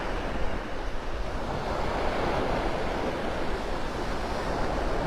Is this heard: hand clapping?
no